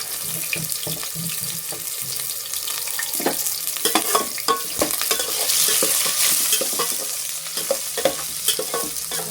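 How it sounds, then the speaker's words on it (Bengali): Chopped onions fry in mustard oil for egg biryani, giving a close, bubbling sizzle that is stirred with repeated scraping and clattering strokes and swells into a louder hiss midway. "এইভাবে পেঁয়াজগুলো ভালো করে ভেজে নেব"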